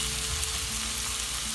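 Goat brain frying in a pan, a steady close sizzle and crackle of hot oil that runs without a break and with no voices.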